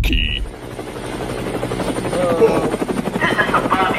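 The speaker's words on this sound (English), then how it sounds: "The helicopter's too loud." Helicopter flying low and loud overhead, its steady rhythmic rotor thump filling the whole stretch as voices speak over it in a tense standoff.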